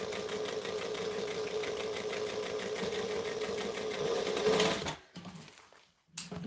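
A sewing machine stitches piping into a seam with a fast, steady mechanical whirr and needle chatter, running continuously before stopping abruptly, then a brief rustle of fabric.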